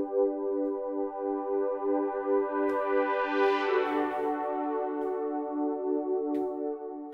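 A sustained synth part plays back from Cubase MIDI, its tone swelling brighter as the modulation wheel sweeps all the way up, then easing back; steady and close with no talking.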